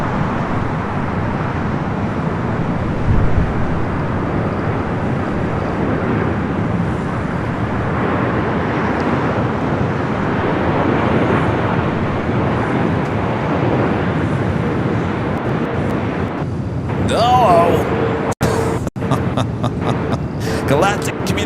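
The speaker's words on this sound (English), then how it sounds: "the flight coming up from Tokyo, Haneda, flight 126, 787-9 Dreamliner" A Boeing 787-9 Dreamliner arriving at Los Angeles LAX from Tokyo Haneda gives a steady, broad jet roar that holds for most of the stretch, with a person talking over it and a few sharp breaks near the end.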